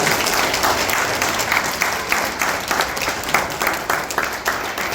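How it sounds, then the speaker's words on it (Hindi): A crowd at the closing of a yoga camp run by an Indian yoga institute at the Shri Ayyappa Seva Samiti breaks into loud, dense, sustained applause that carries evenly for the whole stretch. "एक बार जोरदार तालियां बजा दीजिए हमारी श्रीमती संगीता रावत के लिए।"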